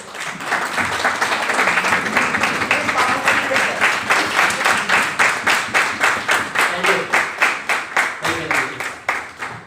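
An audience at a Raipur programme claps loudly and steadily, dense applause that gradually thins into more separate, rhythmic claps toward the end.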